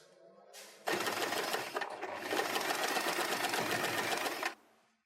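Sewing machine stitches a fabric hair bow in one continuous rapid run of close, even needle clatter lasting about three and a half seconds, beginning and ending abruptly amid quiet handling.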